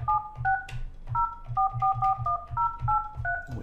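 Touch-tone keypad beeps from a ShoreTel/Mitel Connect business phone dialing a number back, a quick series of about a dozen dual-tone presses in irregular rhythm, close and clear with no talking.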